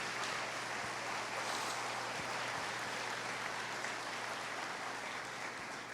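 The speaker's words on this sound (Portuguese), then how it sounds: "Vamos aplaudir pela coragem," A church congregation applauds at a conference, a loud, full burst of clapping that runs steadily for around six seconds, filling the room without any talking.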